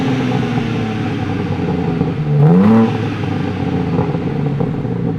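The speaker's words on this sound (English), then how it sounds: "That's a lot of burbles." BMW G82 M4 fitted with a Bomiz exhaust revs once in a brief rising surge over a steady idle rumble, then settles back into a low burble.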